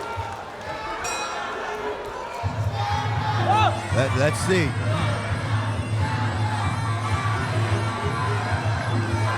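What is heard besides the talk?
Chinese fans in the crowd cheering at a Muay Thai fight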